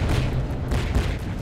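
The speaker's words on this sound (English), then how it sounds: "So let me show you this APS cannon actually." Rapid booming bursts from an APS cannon mounted on a ship in From The Depths, dense overlapping heavy thuds in quick succession, loud and continuous across the short stretch.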